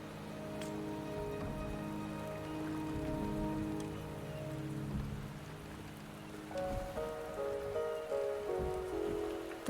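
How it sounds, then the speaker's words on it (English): Steady rain falls in the video game Wuthering Waves, a soft continuous patter of drops on surfaces layered under sustained, gentle musical tones, with no voices. "The rain is subsiding, and the sky will soon clear."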